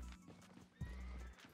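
Horse hooves and whinnying from a tier 5 mount in the Albion Online video game, a short neigh with hoof clops under a steady game background.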